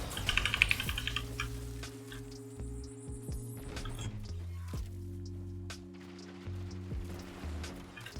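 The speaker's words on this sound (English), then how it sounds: "all you hear is just the keyboard clicking" Irregular computer keyboard clicks tap away during a Destiny 2 gaming stream, soft and close, set against a steady tonal game hum and background sound.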